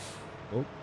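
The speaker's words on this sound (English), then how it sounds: "Oh, hit the brakes." A short, faint hiss and thump of a truck's air brakes in the Farming Simulator 2015 video game on Xbox One. It rises briefly from a steady engine drone while a vehicle heads downhill.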